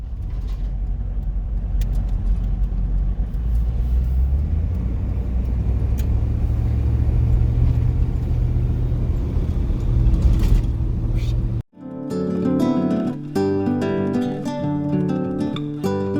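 A car driving on the road from New South Wales toward Melbourne, a steady low engine and tyre rumble heard from inside the cabin for most of the stretch, cut off abruptly near the end as music takes over.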